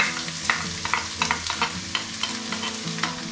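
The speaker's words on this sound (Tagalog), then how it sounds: "Gisa na natin yung ating bawang." Garlic sautés in hot oil with a soft sizzle under repeated scraping and stirring clinks of a utensil against the pan, close and fairly quiet.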